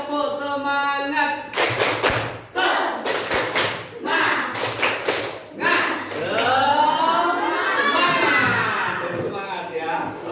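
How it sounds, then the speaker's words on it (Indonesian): A school class claps out the rhythmic "tepuk semangat" chant, sharp bursts of group clapping alternating with children's chanting voices in a lively classroom. "1, 2, 3, tepuk semangat."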